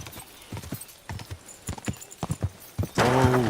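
A horse in Kingdom Come Deliverance II clip-clops along with a steady run of hoofbeats, then lets out a loud, close neigh.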